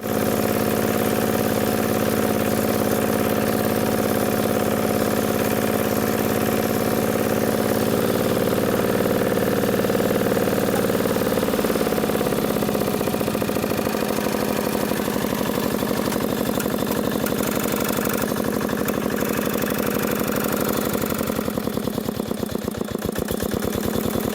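A homemade motor tractor converted from an 8-horsepower walk-behind tractor idles steadily and loudly close by, with a constant mid-low engine drone throughout and a slight shift in pitch partway through, no talking.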